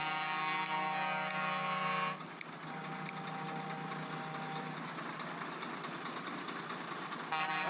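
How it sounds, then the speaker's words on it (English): A sustained truck or car horn blares in road traffic for about two seconds, then idling engines and traffic rumble on at moderate distance, with another brief toot near the end. "People are beeping and honking."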